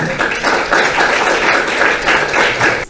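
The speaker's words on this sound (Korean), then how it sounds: "앞으로 나오실 때 큰 박수 부탁드립니다." A seminary audience at a winter lecture on worship gives a guest pastor warm applause as he comes forward: dense, loud, continuous clapping from many hands, steady for the whole stretch.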